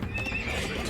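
A scout cavalry horse in Age of Empires II gives a short, close whinny with a quick rising-and-falling neigh and a hint of hoof clatter beneath it.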